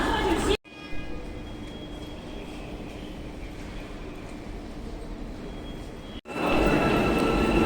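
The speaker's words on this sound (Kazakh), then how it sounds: "Міне метроның дауысы естіліп жатыр." An Almaty metro train in motion, heard from inside the carriage: a steady, rumbling roar of wheels and rails that runs on for several seconds, with sharp cutoffs near the start and the end.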